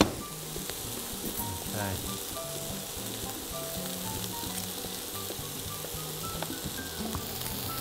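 Garlic sizzles steadily in a hot frying pan, a continuous close crackle with a brief clink and a short spoken word over it.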